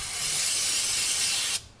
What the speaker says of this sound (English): I'll spray a rag.